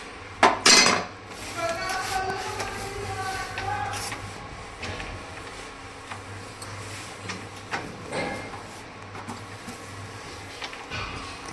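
Dishes, pots and cutlery clatter and clink nearby while a kitchen and gas stove are cleaned, with sharp metallic knocks early on and scattered lighter clinks afterward, and a voice speaking at times.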